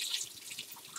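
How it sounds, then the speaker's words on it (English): Tap water runs steadily over habanero and other chili peppers being rinsed at a kitchen sink, a soft continuous splash and trickle with faint drips, close by and alone. "So I'm going to rinse this off right away"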